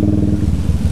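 Yamaha Fazer 250 motorcycle with a sport exhaust riding on a wet dirt track, a loud close rapid engine pulsing throbbing steadily for under a second.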